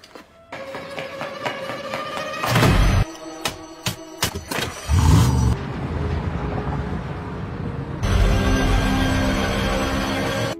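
A car is broken into and started, then driven off in a hurry, with engine cranking and bursts near the start followed by steady revving that swells louder toward the end; no one speaks.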